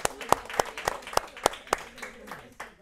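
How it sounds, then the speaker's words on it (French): A small audience claps for a couple's 57 years of marriage, a handful of distinct, evenly spaced claps ringing out near and fairly loud before thinning into murmured talk. "Ça, je crois qu'on peut même les applaudir."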